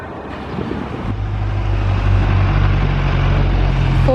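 A Ford recovery truck drives past on the road, its engine growing into a loud, steady low rumble with wind buffeting the microphone.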